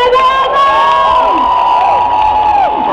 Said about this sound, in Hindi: अपनी तालियां बजा रही है